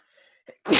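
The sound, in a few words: person sneezing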